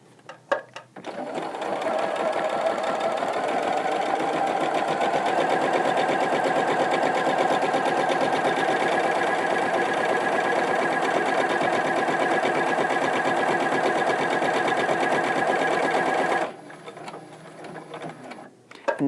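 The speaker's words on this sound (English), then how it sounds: "that's going to tell the machine what part of the buttonhole to make, when to stop at the end and make the bar tack" A Baby Lock Allegro sewing machine stitches an automatic buttonhole in one long continuous run, with fast, even mechanical buzzing and needle clatter close by for about fifteen seconds before it stops.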